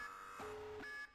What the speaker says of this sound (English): What is that alarm?